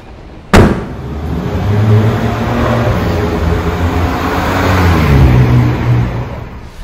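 A locally assembled BMW 218i Gran Coupé with a seven-speed dual-clutch gearbox drives slowly around a stadium parking lot, a steady engine and road hum heard from inside after a sharp door-like thump at the start.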